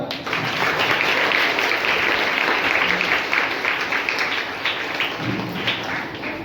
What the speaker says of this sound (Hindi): कम से कम यीशु के नाम से ताली बजाओ